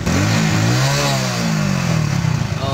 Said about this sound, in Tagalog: napaandar niya ang kanyang motorsiklo gamit lang di umano ang tubig